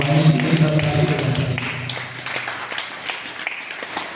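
A crowd at a stage programme of a music and social welfare trust event claps in a dense burst that thins into scattered, separate claps.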